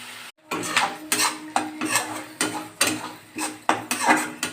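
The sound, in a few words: frying katla fish oil curry in a pan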